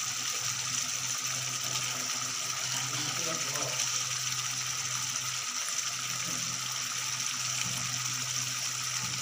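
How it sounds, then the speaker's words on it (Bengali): Hot water pours steadily into a pan of mutton liver curry, a continuous close hiss and gush that holds an even level throughout. "কারণ ঠান্ডা জল দিলে একটু পানসে পানসে ভাব থাকে, এই জন্য গরম জল দিলাম"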